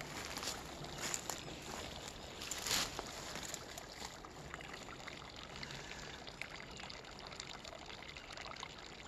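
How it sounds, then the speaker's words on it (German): Faint, steady spring water trickles and splashes continuously as it flows out of a spring, with soft gurgling and occasional small spatters, fairly quiet and with no talking. "Da kommt das Wasser raus."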